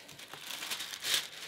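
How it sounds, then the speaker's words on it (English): Tissue paper crinkles and rustles in faint, close bursts while a Hermes Birkin bag is unboxed, with a slightly louder crumple near the end and no talk. "So here we have all the tissue paper"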